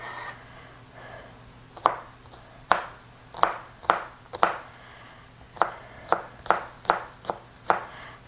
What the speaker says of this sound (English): And I'm going to chop all the way through the green.